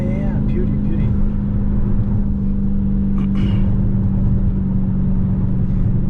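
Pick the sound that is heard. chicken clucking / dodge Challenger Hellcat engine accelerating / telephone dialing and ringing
dodge Challenger Hellcat engine accelerating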